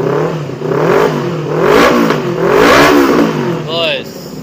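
A cold Honda CBR sport motorcycle, 2019–2020 model with full modifications, is given a few gentle throttle blips, the engine note rising and falling in repeated swells up close, with someone speaking over it.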